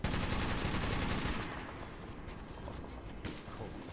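Rapid automatic gunfire from a mounted gun in the video game Metro 2033 rattles loudly for over a second, then drops to quieter, trailing bursts and mechanical clatter.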